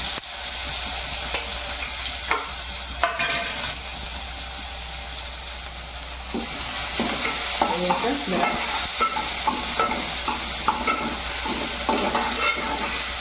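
Cumin and a green chilli-ginger paste sizzling and crackling in hot oil, with stirring scrapes and spoon clinks; the sizzle grows louder and busier partway through. No one speaks.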